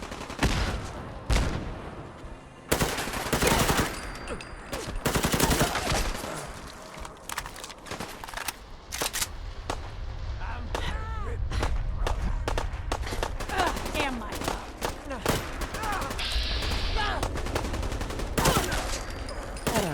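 Sniper rifle fire in the modded video game Fallout 4 comes as repeated sharp shots within a dense, continuous battle din of mixed gunfire and footsteps, loud and close, with game voices at times.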